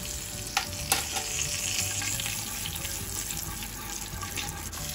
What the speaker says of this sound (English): add cumin seed, allow to splutter